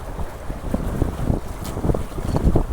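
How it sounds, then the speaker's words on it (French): Strong wind buffets the microphone aboard a sailboat flying a large carbon genoa, gusting unevenly with a low rumble of wind and water, loud and close, with no voices. "je sais pas si vous entendez avec le vent"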